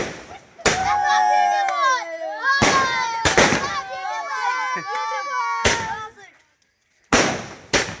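A 30-shot firework cake at Diwali, sharp loud bursts going off one after another with pauses, while children shout and chatter excitedly throughout.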